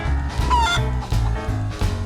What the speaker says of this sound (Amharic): ዶሮ